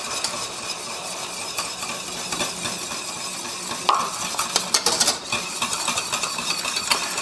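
Salted caramel thickened with corn flour is whisked continuously in a pan, a steady close scraping swish that turns into a run of sharper clinks and taps toward the end, with no voices.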